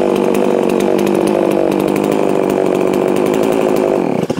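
Holzfforma G660 two-stroke chainsaw running loud and close at a steady high idle, a continuous buzzing drone that cuts off abruptly at the end.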